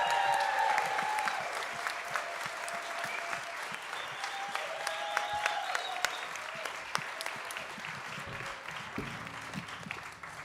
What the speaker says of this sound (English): let me ask you a big round of applause for everybody for putting themselves out